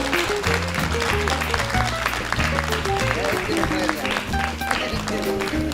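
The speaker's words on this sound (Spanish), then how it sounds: "El aplauso que suene." An audience applauds at a pre-posada celebration on a Veracruz variety program, the clapping running under loud, rhythmic music, with voices mixed in.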